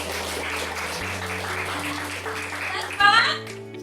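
Children clap together in a classroom guidance lesson, a brief burst of clapping under an adult's speaking voice and sustained tones, swelling near the end.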